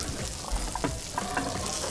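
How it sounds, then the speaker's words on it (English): Shrimp placed on a hot black stone plate sizzle and crackle in a soft, steady hiss dotted with small pops, heard up close at a restaurant table. "When the shrimp are placed on the plate, they sizzle and are cooked right before your eyes."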